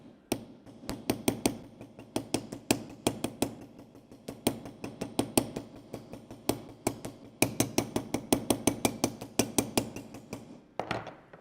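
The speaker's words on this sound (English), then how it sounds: "if I hammer where this edge is touching the metal, I'll get little kind of dashes when I hammer" A Wubbers artisan texturing hammer taps on metal sheet in quick, bright, ringing metallic strikes, close and alone, coming in irregular bursts with brief pauses between runs.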